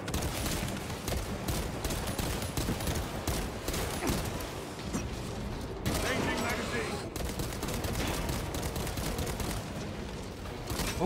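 Rapid bursts of automatic gunfire rattle almost nonstop in Space Marine 2, dense and fairly quiet overall, with explosive crackling layered through the fight.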